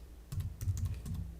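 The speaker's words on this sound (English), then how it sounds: "I'm just going to type it in here just to reinforce it." Quick typing on a computer keyboard, a short run of close, soft clacking keystrokes at an even pace with no talking.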